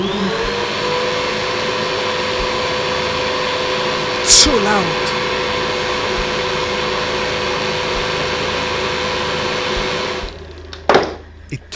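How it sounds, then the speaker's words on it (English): A household vacuum cleaner switches on unexpectedly at night, giving a loud, steady motor whine that drones on for about ten seconds before cutting off, with a brief voice heard near the end. "It turned on the vacuum"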